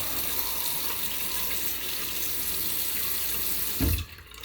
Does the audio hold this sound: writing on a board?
no